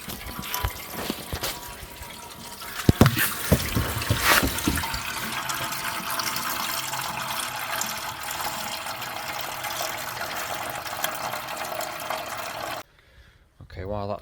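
Coolant drains from a car radiator in a steady trickling stream close by, with a few clanks early on, continuing without a break for several seconds. The car is a Mk4 Golf 1.8T with an overheating problem.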